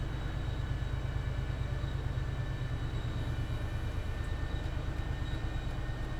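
Train in the Train Sim World 5 game on an MBTA commuter route, heard as a steady, close rumble of running gear with a faint high whine, continuous and unbroken, with no talking.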